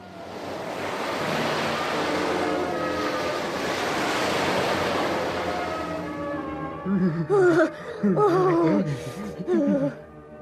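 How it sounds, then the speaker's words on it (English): Cold open sea with surf rolling and washing steadily at fair strength for several seconds, then a voice speaking over the fading wave noise. "Otto and Uncle Tooth were left alone in the cold sea."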